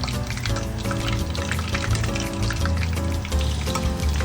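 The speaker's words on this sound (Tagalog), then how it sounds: "Ipiprito ko lang siya ng mga 10 to 15 minutes" Chicken deep frying in oil for a homemade Max's-style fried chicken crackles and sizzles steadily and loudly, with a busy bubbling texture that continues throughout without any talking.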